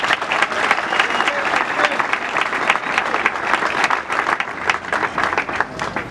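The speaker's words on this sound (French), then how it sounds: "je vous demande de les applaudir." Crowd at a UDPS political youth gathering applauding, thick, energetic clapping that continues steadily and loudly for the full six seconds.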